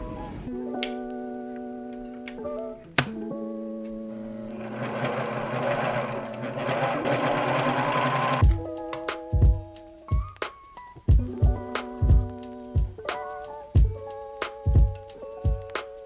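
A sewing machine stitching a dress upcycled from a vintage bedsheet, with a whirring hum in short runs, then a series of sharp rhythmic clicks and stops.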